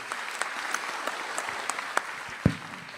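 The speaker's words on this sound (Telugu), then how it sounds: "గట్టిగా చప్పట్లు కొట్టి" An audience at a gathering claps loudly, dense continuous applause with a few sharper claps standing out and one thump near the end, no voices.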